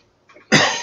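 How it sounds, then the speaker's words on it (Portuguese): A single sharp cough bursts out after a faint breath, loud and close, from a speaker during a debate. "Perdão pela tosse."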